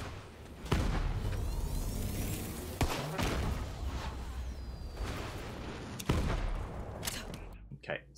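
Gunfire from the Borderlands 3 video game: a steady stream of rapid shots with several louder, sharp blasts standing out, continuing for several seconds and cutting off near the end.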